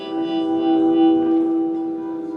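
Guitar played through a digital echo rack delay effect, a sustained tone ringing out with repeating, reverberant delay tails that slowly fade.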